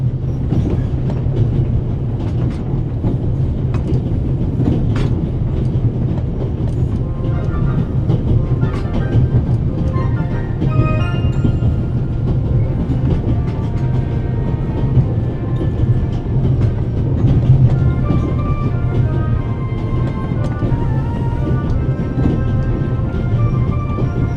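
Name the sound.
train rolling on rails, from a video game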